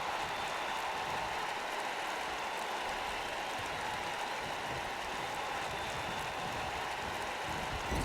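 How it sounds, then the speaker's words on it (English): A wrestling arena crowd in WWE 2K19 keeps up a dense, steady roar of cheering and murmur, loud and unbroken throughout. "this crowd buzzing big time right now"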